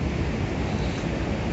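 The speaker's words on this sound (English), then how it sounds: "the wind at the moment is really terrible" Strong wind roars across a seaside headland at Blackpool on a cold afternoon, a steady, dense rush of buffeting noise with sea surf beneath, loud and unbroken, with no voices.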